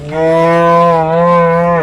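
A cow at a cattle market in Ranebennur lets out one loud, close, sustained moo lasting nearly two seconds, steady in pitch before breaking off at the end, with no voices over it.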